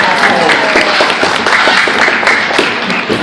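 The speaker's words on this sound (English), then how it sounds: "Give him a clap." Live audience applauds at a parrot show in an amusement park after a parrot flies through hoops, dense steady clapping filling the whole moment, loud and close, with a presenter's voice faintly mixed in.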